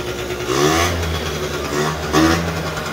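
A small engine on an old Buddy scooter, left sitting for 50 years, runs rough and uneven, revving up in a couple of surges before settling back, close by with no talking.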